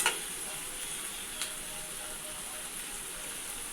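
Bitter gourd sautéing with onions in oil in a pan, a steady close sizzle and hiss throughout with a faint clink of stirring near the start.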